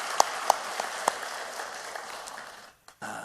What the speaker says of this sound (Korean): 큰 박수로 우리 하나님께 감사하며 고백하겠습니다